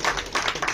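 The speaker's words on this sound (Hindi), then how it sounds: "तालियों से तो नवाजा जाना ही चाहिए।" A few quick hand claps ring out at a music program, a short, moderately loud patter of separate claps rather than a full ovation.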